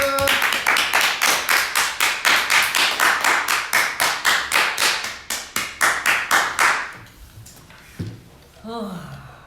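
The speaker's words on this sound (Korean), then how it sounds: "자, 박수!" Hands clap close by in a quick, steady rhythm of about thirty claps, then stop. A voice follows briefly afterward.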